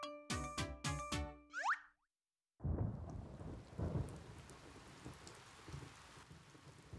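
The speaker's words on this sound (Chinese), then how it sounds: "孩子他妈下雨了" A few bouncy, springy cartoon tones end in a brief silence, then a steady downpour of rain starts, with low rumbles of thunder rolling beneath the constant hiss.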